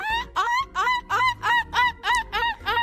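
Young boy imitating a seagull with his voice, a rapid run of about eight loud, nasal, yelping calls in an even rhythm, close and clear with brief gaps between each cry.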